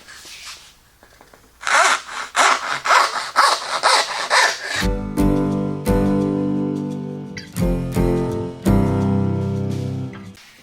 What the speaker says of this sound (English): So I'm going to show you a few tips today on just starting your saw cut.